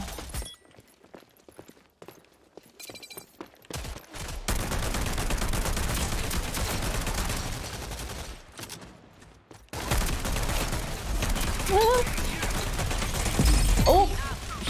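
Grenade blast and bursts of gunfire in a Walking Dead shooter game, loud rapid firing and impacts after a quiet opening, with a voice shouting over the chaos.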